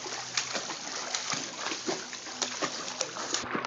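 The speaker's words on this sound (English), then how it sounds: "There's Kilo learning how to swim." A big dog named Kilo splashing about in water as he learns to swim, with irregular close sloshes and splatters that come and go over a few seconds.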